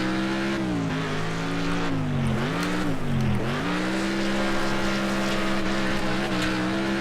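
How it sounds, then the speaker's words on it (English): Engine drone of a car in the video game Next Car Game pre-alpha, a steady tonal hum that dips and swells with revs, continuous and loud with a faint tire squeal. "the engine sounds. They sound pretty recycled from previous games"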